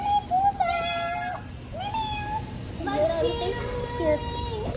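A cat meows several times in short rising and falling calls, close by, mixed with children's voices and chatter around it.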